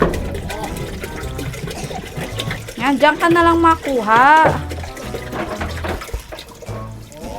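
Water runs steadily from a tap or hose at a rural family house, a continuous splashing flow that carries through the clip under close conversation, with one voice rising loudly midway.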